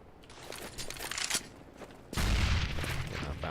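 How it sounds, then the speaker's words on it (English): A flashbang grenade bursts in midair on the Dust 2 map in Counter-Strike, a sudden loud blast that cuts in partway through after quieter game noise, then rings on with a sustained bright wash of sound. "I throw it, and then I look away, like this, and that explodes in midair."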